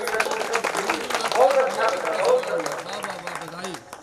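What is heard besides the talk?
audience applause at poetry recital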